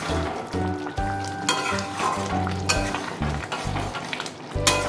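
Chicken liver curry sizzles and fries steadily in a pan on a gas flame as its released juices cook down, with intermittent stirring and a few clinks of a utensil against the pan, no voices.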